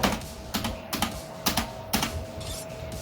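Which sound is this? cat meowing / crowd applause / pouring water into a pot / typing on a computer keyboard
typing on a computer keyboard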